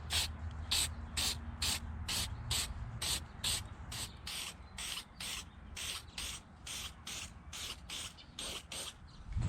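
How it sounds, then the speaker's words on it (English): Meguiar's headlight coating sprays from an aerosol can onto a car headlight in a long series of short, regular hissing bursts, close and fairly loud, with brief gaps between each spray. "the second coat has been applied to the headlight with the McGuire's headlight coating"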